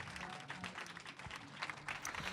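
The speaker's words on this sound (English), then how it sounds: "So another round of applause for this dude" An audience claps and applauds for a teen speaker at a corporate retreat, a dense patter of hands that stays fairly faint and distant throughout.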